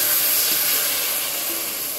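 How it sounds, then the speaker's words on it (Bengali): Water poured into a hot pan of fried spices, Kashmiri chilli powder among them, for a potato and chanda fish curry, sends up a loud, steady steamy hiss that eases slightly as it goes on, with no voices. "ভালো করে ভাজা হয়ে গেছে, এখন দিয়ে দিব জল"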